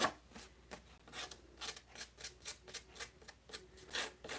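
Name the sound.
roughing up edges of a craft piece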